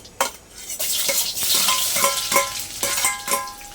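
Chopped onions sizzle in hot oil with mustard seeds in a pan for a Telugu brinjal curry, stirred with a spoon in steady, repeated scraping strokes over a continuous close fry.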